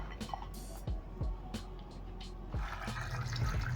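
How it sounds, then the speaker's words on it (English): Water poured into a pot holding kienyeji chicken over a high flame in a kitchen, a gurgling, splashing stream with drips, moderately close and fairly soft. "Add enough water to submerge the chicken."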